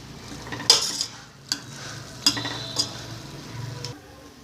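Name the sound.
raw mango cooking in a pan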